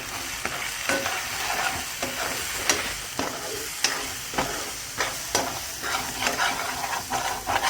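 Fish curry with homemade red chilli, turmeric, salt, fish masala and coriander powder sizzles in hot oil, with a steady frying hiss and repeated scraping stirs of a spoon against the pan, close and alone.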